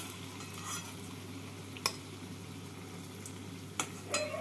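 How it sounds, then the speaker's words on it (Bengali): Raw banana and chhana koftas fry in hot oil with a quiet, steady sizzle, broken by a few sharp clicks and taps from a pan or utensil. "বাকি কোপ্তাগুলোকেও একইভাবে ভেজে নেব।"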